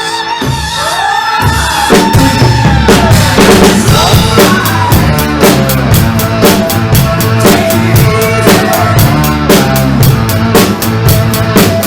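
A rock drum part plays along with the full band track, steady kick and snare backbeat with crashing cymbals, loud and continuous.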